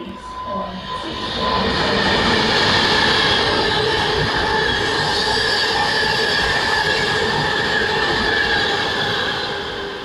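Two Pendolino trains rushing through at speed, a loud rising roar of wheels and rushing air with a high rail hiss that holds for several seconds before easing off.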